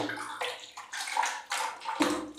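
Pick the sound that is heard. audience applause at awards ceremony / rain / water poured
water poured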